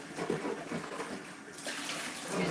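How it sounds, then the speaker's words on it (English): Tap water runs into a bowl being rinsed out after washing collard greens, a soft, steady splashing stream that shifts in tone partway through as the bowl moves under it. "Rinse out my bowl"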